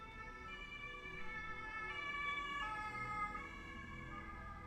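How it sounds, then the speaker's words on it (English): A police siren passes outside, a steady wailing tone heard at a distance through background traffic, faint and continuous with no voices. "And now there's some kind of ambulance coming past."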